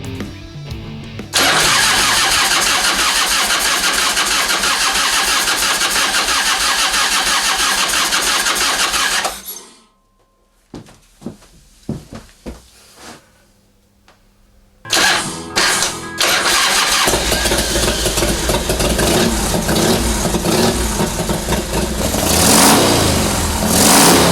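A custom motorcycle engine, just back from a CV carburetor rebuild, cranks and catches, runs loud for several seconds, pauses with some clicks, then starts again and revs and idles strongly.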